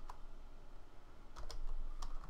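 Quiet tapping on a computer keyboard while a password is entered, a few scattered soft keystrokes over a low background hiss.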